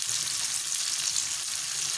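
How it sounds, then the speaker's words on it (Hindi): Tempering spices for sarson ka saag sizzle and crackle in hot oil over medium heat, a bright steady frying hiss heard up close without any talking. "और अच्छा सा तड़का तैयार कर लेते हैं, थोड़ी सी दरमियानी आंच के ऊपर।"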